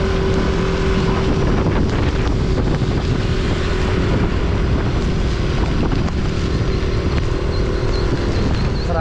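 Strong, steady typhoon wind at Signal No. 4 in Cabanatuan City roars and buffets the microphone without letup, a dense rushing noise with a faint hum beneath.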